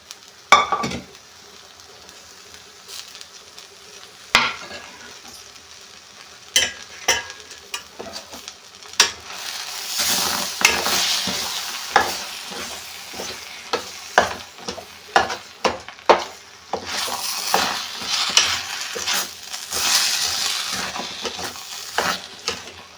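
A spoon stirring and mashing cooked dal with green chillies in a pot for one-pot sambar, soft scraping and squelching with sharp metallic clinks and taps in an uneven rhythm.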